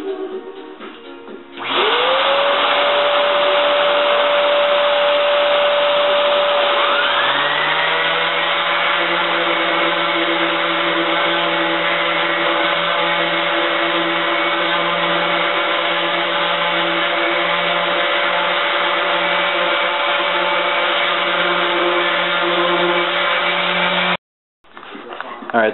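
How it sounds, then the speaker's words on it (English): An electric DA sander runs with a shop vac hooked to its back while stripping a 1970 Triumph TR6 front fender, a loud, steady close whine with the motor pitch rising early on, then cutting off briefly near the end. "I just hook my shop vac up to the back of my DA, electric"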